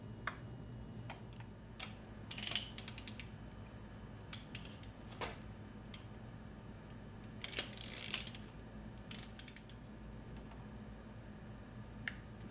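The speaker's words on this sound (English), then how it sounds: "For that purpose, I'm going to use thin wall 14mm socket." A thin-wall 14mm socket on an extension loosens a spark plug on a BMW R1200RT/GS wethead boxer engine, giving faint, scattered clicks and ticks in a quiet room with no talking.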